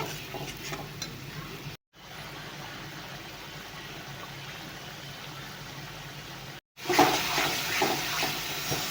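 Spice paste for a Bengali fish curry stirred and fried in oil in a pan, a steady soft sizzle with scraping stirs running throughout, briefly cutting out twice, then louder clattering stirs near the end; no talk.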